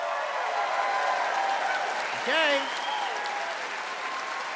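Studio audience applause for a comedy debate contestant, a steady broad wash of clapping that holds through the whole stretch, with a brief spoken word and a short whistle-like cheer rising over it midway.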